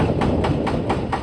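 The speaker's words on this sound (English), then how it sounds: "one that you can hear there with the drill on" A demolition machine at a building demolition site hammers and drills with steady rapid pulses, about four or five per second, over a loud continuous engine rumble, heard fairly close.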